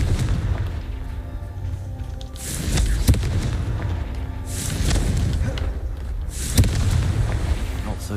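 Confringo explosion spell in Hogwarts Legacy, two distinct booming blasts a few seconds apart over a continuous rumbling, noisy game background.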